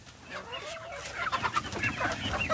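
Chickens clucking close by as a coop is opened, a flock of about seventy-five birds making overlapping soft clucks and calls that grow busier.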